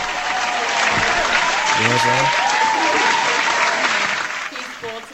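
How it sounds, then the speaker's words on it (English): Sustained, dense applause from a crowd fills the whole stretch and fades toward the end, while a voice talks over it. "Applause for you for that."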